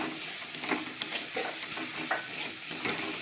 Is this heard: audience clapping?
no